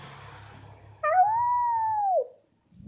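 A person imitates a wolf howl with their voice: one long, sustained, slightly falling wail held for about a second, clear and near after quiet background murmur.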